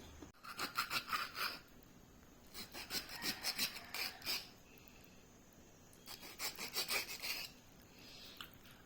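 A knife saws through a cleaned fish being cut for frying, giving rasping, scraping strokes in three bursts separated by short pauses, close and fairly quiet.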